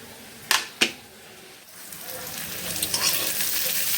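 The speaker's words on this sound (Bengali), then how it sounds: "এখানে যে পেঁয়াজটা একটু ভেজে নেব, কাঁচামরিচ দিয়ে দেব।" Onion and green chillies fry in a pan with a soft, broad sizzle that builds and grows steadily louder, after two sharp clacks near the start.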